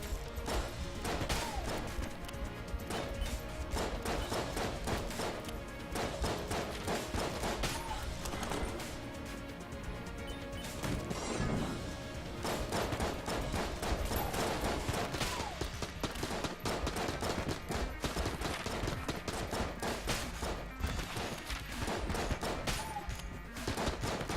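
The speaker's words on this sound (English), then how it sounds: "my little bullet buddy here is actually shooting little shots" A small bullet-shaped companion in the game Enter the Gungeon fires rapid little shots, mixed into constant busy gunfire, loud and unbroken for the whole stretch.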